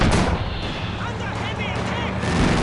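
A mortar squad in Company of Heroes 2 fires amid dense, loud battle booms and rumbling blasts, with someone narrating throughout.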